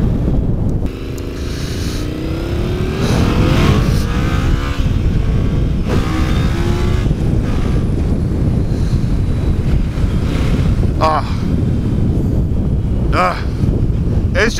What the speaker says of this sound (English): It's just nice to have a fast motorcycle again.